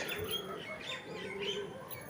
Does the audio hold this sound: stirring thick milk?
no